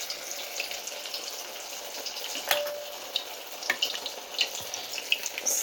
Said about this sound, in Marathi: त्याला वेगवेगळा असा आकार दिलेला आहे मी आणि हे आपण तळूया.